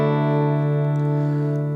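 A Les Paul Junior electric guitar played through an amplifier with a touch of reverb and no pedals, one sustained chord ringing out steadily and loud, fading only slightly over its length.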